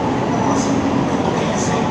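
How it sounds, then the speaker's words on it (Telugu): Telangana Express train at a railway station, a loud, steady rumble of the rolling train cars filling the platform, with faint voices mixed in. "ట్రైన్లు తెలంగాణ ఎక్స్ప్రెస్ ఇది"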